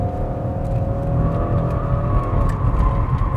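A 2021 Audi RS6 Avant wagon pulls hard in third gear through a left-hand bend, its engine roar steady and loud throughout with a continuous drone and no talking.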